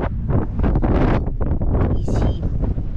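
Wind buffets the microphone outdoors aboard an amateur-built catamaran, a steady, loud rumbling roar that fills the whole clip with no clear talk.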